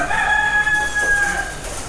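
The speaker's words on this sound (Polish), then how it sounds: "Ale patrz, jakie piękne koguty." A rooster for sale at a market in Marrakesh crows once in a loud, drawn-out call close by, over a steady murmur of market background noise.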